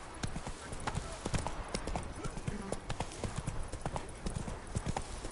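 Hooves of the horse Roach clip-clop at a steady gallop in a PS4 video game, a rhythmic, fairly close beat running throughout, with a rider's voice calling out over it.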